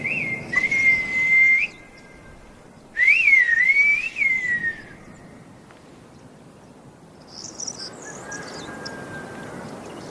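A Silbo Gomero whistler on the island of La Gomera sends sharp, piercing whistled phrases with gliding pitch in two bursts, then a fainter reply amid quiet outdoor ambience and faint insect or bird sounds.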